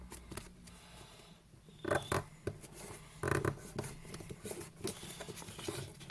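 Paper being folded and creased by hand into an origami bird, with soft rustles and two louder crisp bursts of crinkling and scraping close up, no talking.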